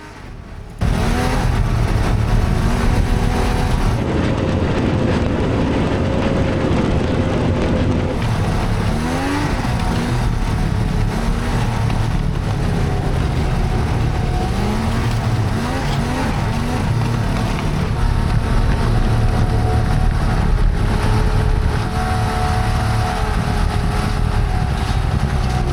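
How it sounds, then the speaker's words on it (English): A large group of vintage snowmobiles riding together toward the Canadian border in New Hampshire, a continuous loud drone of two-stroke engines with rising and falling revs as the machines pass close by. "We'd meet up with a large group of vintage snowmobiles and take a ride up to the Canadian border."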